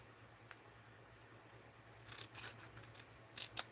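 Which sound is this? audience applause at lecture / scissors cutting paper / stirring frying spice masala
scissors cutting paper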